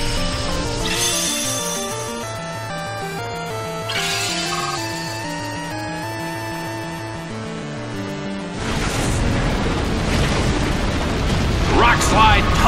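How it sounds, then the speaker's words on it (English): Rock Slide attack from the Pokémon Battle Revolution game, a rumbling, crashing burst of tumbling rocks that swells loudly near the end over steady synthesized battle music. "Rock Slide tumbles down!"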